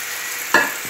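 Meat frying in a pan and stirred with a spatula, a steady hiss of sizzling with one sharp scrape of the spatula midway.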